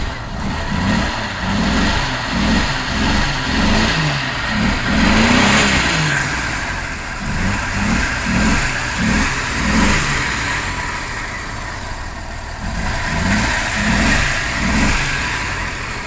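Turbocharged Jeep Cherokee Trackhawk engine revving hard in repeated pulses, loud and close, with a steady rumbling idle between bursts and no talking.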